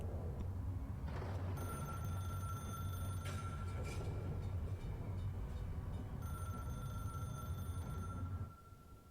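A telephone ringing in a K-pop music video, two sustained electronic ring bursts with a pause between, over a low rumbling background bed, fairly faint.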